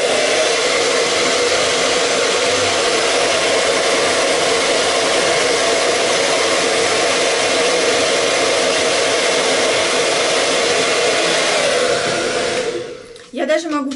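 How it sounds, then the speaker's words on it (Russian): A hair dryer blows steadily at close range with a loud, constant whooshing roar, cutting off near the end with a brief rustle. "потом включаю фен и немножечко вот так как бы подсушиваю"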